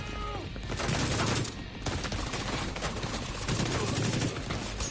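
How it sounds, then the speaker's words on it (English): Gunfire in The Division 2 played on PS4, with a shotgun among the weapons, comes as dense overlapping bursts and blasts filling the clip, loud and continuous with brief dips, against a busy combat backdrop. "I might just use a shotgun"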